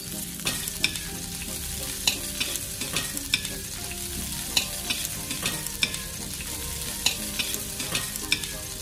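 Garlic and onion sautéing in hot oil for chicken adobo: a soft continuous sizzle punctuated by regular crisp clinks and scrapes of a spatula stirring in the pan, close and without speech.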